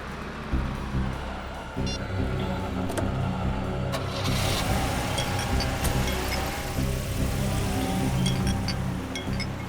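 A taxi's car engine hums steadily while driving, a continuous mid-low drone with some rising revving partway through, sounding close and filling the cabin with background noise throughout.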